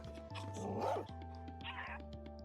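A dog barks a few times in Minecraft, over a steady electronic hum and looping musical tones.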